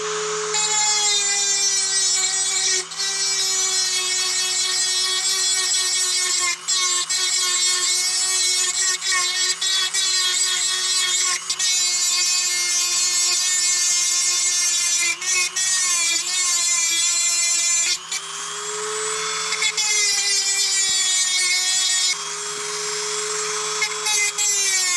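Sustained high whine of a tool grinding a Husqvarna chainsaw chain, loud and close, running almost continuously for the whole stretch with brief dips between passes.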